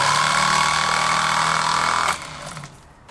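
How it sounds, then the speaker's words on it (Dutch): A weak car starter motor runs on a workbench, giving a steady, fairly loud electric whir that cuts off sharply near the end and leaves only faint rattling. "Dan gaat hij meteen draaien."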